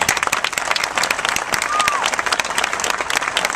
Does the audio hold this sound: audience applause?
yes